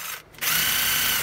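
A Craftsman power tool whirs at high speed, spinning a nut off a Cummins engine cylinder head, with a short dip before it revs back up to a loud, steady, close whine.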